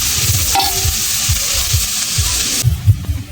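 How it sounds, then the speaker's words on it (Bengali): Whole spices fry in hot oil for biryani, a steady close sizzle with a few stirring scrapes over it. "আমি মশলাটা তেলে ভেজে নেব"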